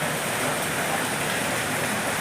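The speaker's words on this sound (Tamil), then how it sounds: "அப்புறம் இப்போ தொடர்ச்சியான மழை" Steady heavy rain pours down continuously during monsoon floods in Kerala, a dense even hiss with no breaks and no voices.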